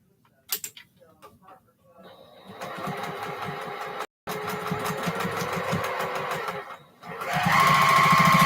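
A sewing machine stitches a quarter-inch seam, its rapid mechanical ticking running in steady bursts with brief pauses, close and moderately loud, after a few soft handling knocks at the start.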